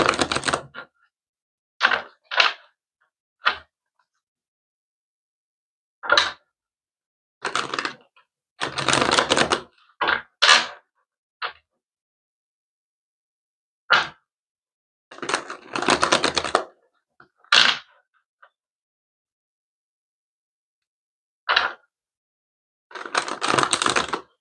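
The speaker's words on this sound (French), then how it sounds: "je vais brasser les cartes avec le Rider-Waite pour avoir beaucoup plus d'éclaircies sur votre lecture" Rider-Waite tarot cards are shuffled in short, crisp riffling bursts separated by silences, close and fairly loud with no talk.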